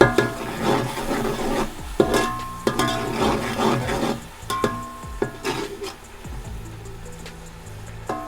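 Dry spices with softened tomatoes roasting in a pan, a soft scraping and rubbing of a spatula stirring the mix, low sizzle beneath the strokes, fairly quiet and close.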